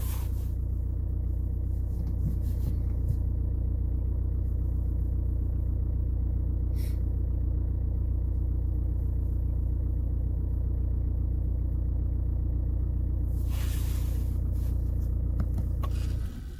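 A car engine idles steadily through a winter warm-up, a constant low rumble that stays close and even for the whole stretch with no talk over it.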